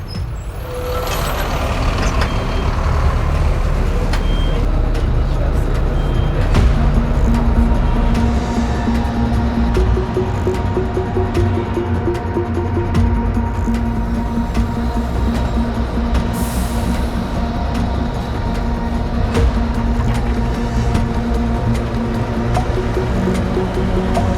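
A train in a city, heard close and loud: heavy rumbling with hissing air brakes and squealing wheels, steady metallic tones droning throughout, with no talk.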